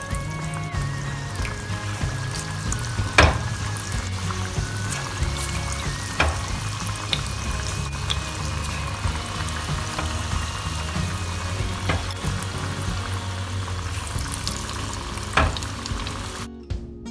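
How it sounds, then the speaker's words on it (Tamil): Small onion bondas fry in well-heated oil in a pan over a medium flame, with a continuous close sizzle and bubbling broken by occasional sharp clicks and pops. "ஆயில் நல்லா ஹீட் ஆகிடுச்சு. இப்போ நம்ம சின்ன சின்னதாக போட்டுடலாம்."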